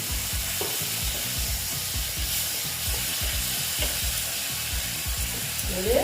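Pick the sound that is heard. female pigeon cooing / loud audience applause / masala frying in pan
masala frying in pan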